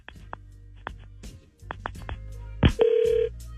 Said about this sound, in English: Let's make the phone call right now